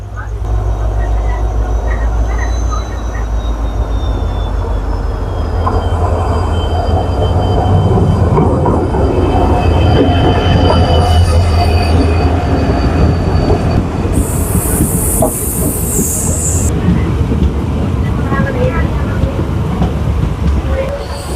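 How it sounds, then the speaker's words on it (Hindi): The Nagaland Express rolls past a halted train in Assam after flooding, making a loud, continuous rumble with clattering wheels and high squeals that builds mid-pass, while voices can be heard faintly underneath. "फाइनली नागालैंड एक्सप्रेस आ रहा है।"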